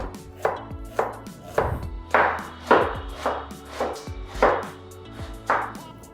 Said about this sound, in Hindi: ये प्याज हमने चॉप कर लिए हैं